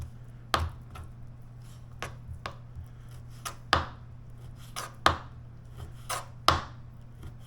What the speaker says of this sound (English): So that's how you pretty much kind of fillet the pork